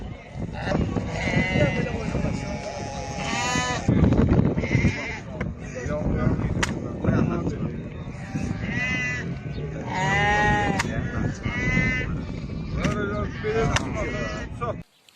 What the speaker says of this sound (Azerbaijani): 10 baş qoyun, 5 quzudur, 3 dənə də keçidir